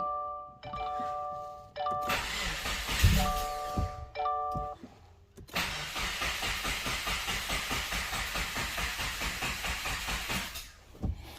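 A Subaru WRX 2.0 engine, freshly fitted with new valve shims, is cranked by the starter in bursts, accompanied by dashboard warning chimes, then a long steady rhythmic cranking run that fails to catch.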